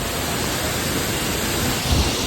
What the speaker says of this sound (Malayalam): നല്ല മഴ ചെയ്യുന്നുണ്ടല്ലോ